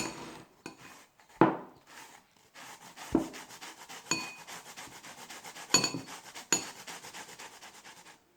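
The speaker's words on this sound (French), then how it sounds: "il nous faut 150 g de courgettes que nous allons donc râper" Courgettes scraped across a hand grater in a home kitchen, a few separate rasping strokes with sharp clinks between them, close and fairly quiet with no talk.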